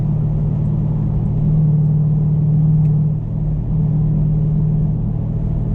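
A 6.4 truck engine fitted with a new AFE intake rumbles loudly and steadily under acceleration, with a sustained low drone that swells briefly and then eases off.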